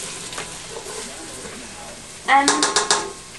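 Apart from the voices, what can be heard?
ginger and garlic frying and being stirred in a pan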